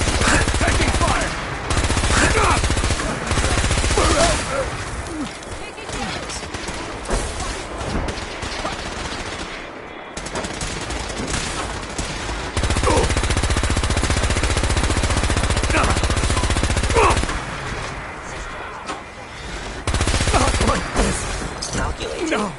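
Gunfire in Fallout 4 combat: loud, rapid bursts of automatic fire and scattered shots, repeating in clusters with brief lulls between volleys.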